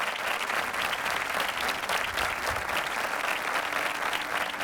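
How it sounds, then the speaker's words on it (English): Audience applause fills the hall at a corporate summit alumni award ceremony, a dense, steady wash of clapping from a large crowd lasting throughout, with no voices over it. "Huge round of applause, please."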